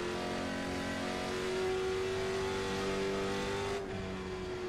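A late model stock car engine in the iRacing sim drones loud and steady at a held pitch during a Kern County race, with a slight drop in tone near the end and no talk.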